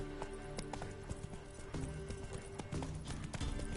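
Hoofbeats of a horse from The Witcher 3 video game, a steady clip-clop running under constant in-game background ambience with a faint whinny, moderately loud and close.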